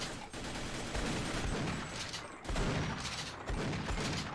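Rapid shotgun blasts in Half-Life co-op: dense, loud overlapping bursts in quick succession with booming low rumble throughout, no talk.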